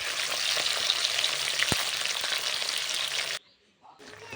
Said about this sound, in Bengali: একে একে এভাবে দিয়ে সব মাছগুলো ভেজে তুলে নেব